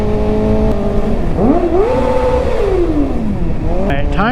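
A Kawasaki ZX-4RR motorcycle engine revs up and down in traffic, its pitch rising sharply, sweeping back down, then climbing again in quick bursts over steady road and wind noise.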